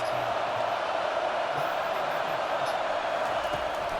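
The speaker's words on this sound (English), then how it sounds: "Listen to this crowd just shaking the girders of this place, trying to help their defense." A stadium crowd in the College Football 25 video game roars steadily and loudly through the whole stretch, a dense, unbroken wall of noise with no single voice standing out.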